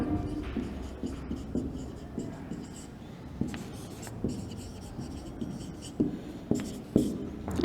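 Pen on paper during a school science lesson, with steady scratchy writing strokes and intermittent taps, close and fairly quiet throughout.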